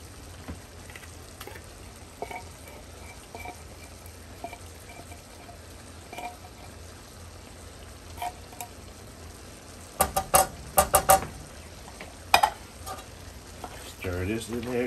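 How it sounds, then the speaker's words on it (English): Cream of mushroom soup being stirred into a pot of jambalaya, soft scraping and sizzling throughout, with louder clattering stirs near the end. "Stir this in there good."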